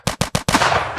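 Gunshot sound effects fired from a producer's boards in a studio: three quick loud bangs in a row, then a fourth shot with a long echoing tail, with no talking.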